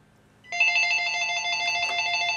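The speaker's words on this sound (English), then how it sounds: "the freaking phone keeps ringing" A telephone rings indoors, its electronic bell starting abruptly after a quiet moment and pulsing in a steady, fast trill, close and clear with no talking.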